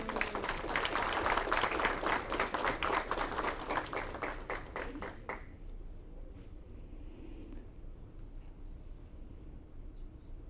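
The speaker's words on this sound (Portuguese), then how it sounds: "Uma salva de palmas, por favor." Audience applause at an inauguration ceremony for a new association board, steady moderate clapping for about five seconds, then cutting off to quiet room ambience.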